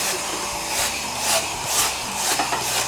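Fibreglass Cobra spoiler being hand-rubbed down after filling, a close, steady scratchy sanding sound with rhythmic strokes surging every half second or so.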